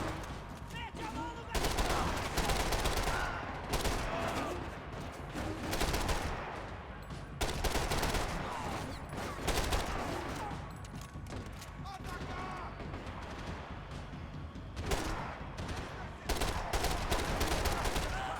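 Gunfire in the video game Max Payne 3 from a gun with heavy recoil: loud bursts of shots repeat across the scene amid a dense, continuous battle din, with someone talking at times.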